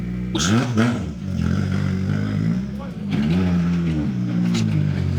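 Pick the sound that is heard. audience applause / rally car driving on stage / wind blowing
rally car driving on stage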